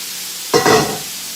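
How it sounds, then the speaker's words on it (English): Food dropped into a hot pan bursts into a loud, close sizzle that swells for about half a second and then fades. "Hear that sizzle?"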